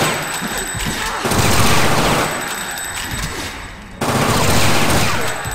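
Gunfire from the video game Fear Effect crackles in loud, dense bursts of rapid shots that roll on almost without a break, with a short dip before another volley.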